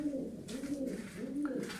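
Pigeons coo in a pen, a few soft rolling coos repeating close by over a quiet background.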